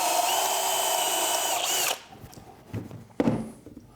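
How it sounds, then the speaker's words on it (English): A power drill whines loudly and steadily for about two seconds while pre-drilling wood, then stops, followed by a few clunks and rattles of handling. "We'll get our pre-drill"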